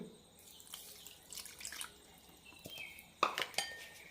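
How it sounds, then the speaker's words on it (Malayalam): Quiet room with a few soft clinks, then a short burst of water pouring and splashing into a bowl of semolina batter near the end. "ഇനി ഇതിലേക്ക് അരക്കപ്പ് വെള്ളം കൂടി ഒഴിക്കാം"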